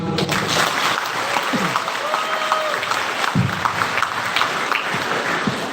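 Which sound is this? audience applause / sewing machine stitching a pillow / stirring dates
audience applause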